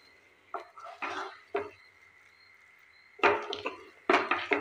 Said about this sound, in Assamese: এইদৰে আপোনালোকে কেৰাহীখনত ল' ফ্লেমত লৰাই থাকিব।